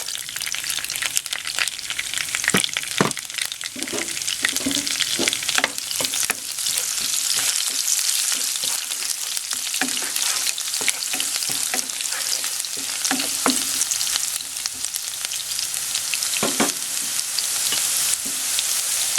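Garlic sizzles and crackles steadily in a hot pan, with occasional stirring scrapes and no voices.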